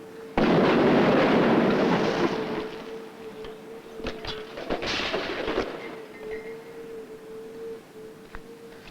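A large explosion set off to mimic earthquake damage gives a sudden loud blast that rumbles and fades over a couple of seconds, followed by scattered cracks and debris noise, with a steady electronic tone running underneath.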